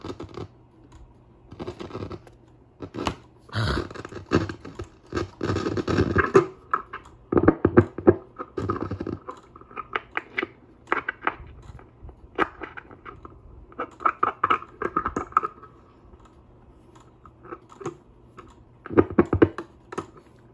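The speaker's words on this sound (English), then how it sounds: "Why is it making a clanking noise?" A 78rpm record player makes irregular, uneven bursts of clanking and rattling, close and moderately loud, separated by quieter gaps over about twenty seconds.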